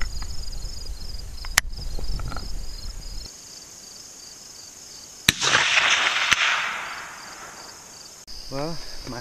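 Two sharp rifle shots crack out at an outdoor range aimed at a 250-yard target, each a single abrupt report, set against a steady bed of insect buzzing.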